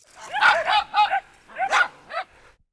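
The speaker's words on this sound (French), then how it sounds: "les chiens se ruent sur ceux qui sortent de la piscine" Several dogs bark in excited bursts beside a swimming pool, two loud close clusters of yelping barks separated by a short pause.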